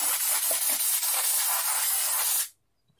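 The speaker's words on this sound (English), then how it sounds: "we're going to spray some of this stuff into our mix mold" Mold release spray hissing into a mix mold, one loud, steady aerosol burst lasting over two seconds before cutting off abruptly into silence.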